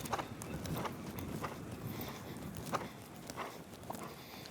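Horse hooves clip-clopping in a steady rhythm during jumping and flatwork exercises in a riding arena, moderately close with a soft ambient background.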